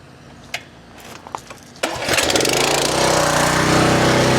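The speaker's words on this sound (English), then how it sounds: "this is my Vevor pressure washer that they had sent me a year or two ago" A few clicks and pulls lead to a Vevor pressure washer starting up, its motor quickly building into a loud, steady, buzzing drone close by.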